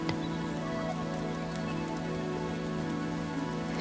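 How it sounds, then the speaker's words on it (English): Steady rainfall pattering on a surface, a dense continuous wash of drops with a low sustained hum underneath, even in loudness throughout and without any voices. "as the rain continues"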